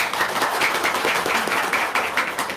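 An audience claps together in a steady patter of many hands, moderately loud and sustained without a break, at a talk on earning money in property deals.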